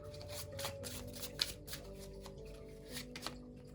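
Tarot cards being shuffled by hand in a quick riffling run of papery bursts, close and fairly soft, with a low steady hum underneath and no talk.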